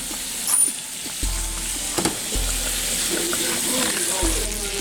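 Leftover rice sizzles in a pan of shrimp stir fry, a continuous close hiss of frying broken by a few clanks and stirring scrapes.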